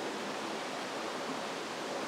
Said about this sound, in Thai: เสียงน้ำไหลตลอดเวลา